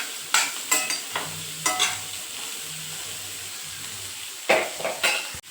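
Spoon stirring bhaji of spiny gourd (kantola) frying in a pan, several distinct scraping strokes near the start, middle and end, with a soft sizzle running steadily underneath.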